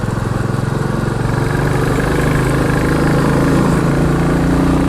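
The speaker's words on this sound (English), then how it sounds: "Chap on his Ducati Scrambler." A Ducati Scrambler motorcycle's engine is heard close and loud, a steady, throbbing mid-pitched drone that holds for the whole stretch.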